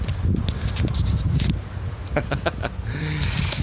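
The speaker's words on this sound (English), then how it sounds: "I do apologize about the wind. I'm sure it's loud, but it's windy." Wind gusts rumble and buffet the microphone outdoors on a farm, with rustling and a few brief clicks and chirps scattered across the steady low roar.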